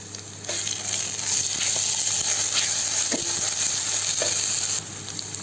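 Ginger garlic paste fries in hot oil for fish curry, giving a steady close sizzle with occasional stirring scrapes and light spatters.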